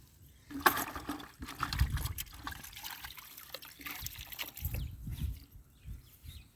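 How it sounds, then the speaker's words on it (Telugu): Water is poured onto the cleared ground around a plant in a farm field, a faint, uneven trickle and splash that comes in a few short spurts. "ఇట్లా నీళ్ళు పోసుకోవాలి"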